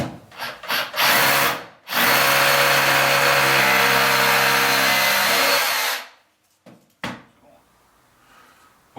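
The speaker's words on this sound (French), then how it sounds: "Notre perceuse. Et à chaque marquage, on fait un trou" Power drill boring holes into a floor at marked spots for fixing a wall-hung toilet, one loud continuous run of about four seconds followed by brief knocks and handling noises.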